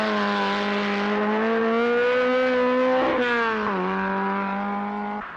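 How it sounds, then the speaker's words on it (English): A Skoda rally car races on the 1978 Rally of the Danube, its engine holding a loud, steady, high-revving whine with a brief dip and quick recovery as the driver shifts. "The Czechs, Blana and Hlavka in the Skoda, really trying"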